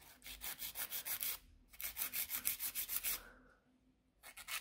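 Gel nail extensions are filed to taper into a coffin shape, the file rasping in quick rhythmic strokes in two close bursts separated by a short pause, with a brief final burst at the end.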